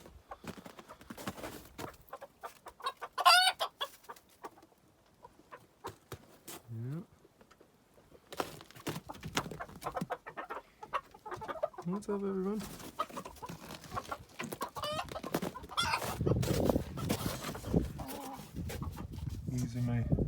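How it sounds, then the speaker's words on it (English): Small dwarf chickens cluck and murmur close by, scattered across outdoor ambience, with someone talking among the birds. "These are my little dwarf chickens."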